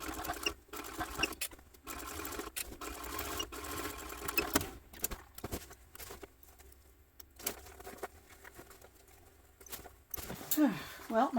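A sewing machine stitches a tote bag in short bursts of rapid mechanical patter, starting and stopping repeatedly, close by and moderately loud.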